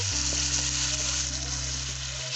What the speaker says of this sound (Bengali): এখন আমি ঢেকে রাখা মাংসটাকে মশলার মধ্যে দিয়ে দিচ্ছি দিচ্ছি দুটো টুকরো করে কেটে রাখা আলু